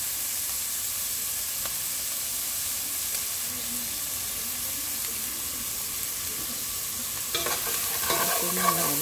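Onions sauté in a pan with a continuous close hissing sizzle throughout, growing louder and busier near the end as the pan is stirred.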